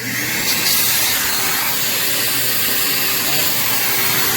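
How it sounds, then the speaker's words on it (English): A leaf blower runs steadily to blow out swimming pool lines during pool closing, a loud, constant broadband whoosh with no pauses, heard close and alone. "first I'm going to turn the blower on"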